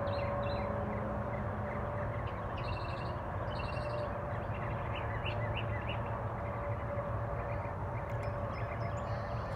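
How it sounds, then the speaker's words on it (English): Birdsong in the early morning around 6:15 a.m., scattered chirps and short calls coming through at moderate distance over a steady low background hum. "You hear the birds singing in the morning?"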